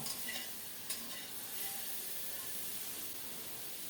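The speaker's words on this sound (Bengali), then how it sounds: "কিছুক্ষণ নেড়ে চেড়ে কপিটাকে ভালো করে কষিয়ে নেব" Cauliflower stir-fried in a pan while its released water cooks off, with a steady soft sizzle and occasional stirring scrapes, quiet and continuous throughout.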